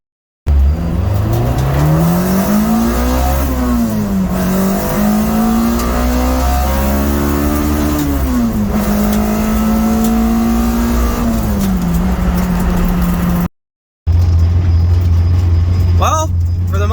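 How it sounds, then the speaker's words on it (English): A VTEC car engine fitted with a replacement Dragonfire distributor revs hard up to its rev limiter. The loud, sustained wail climbs and wavers in pitch, cuts out abruptly near the end, then returns briefly as a lower roar. "I took this one to the rev limiter"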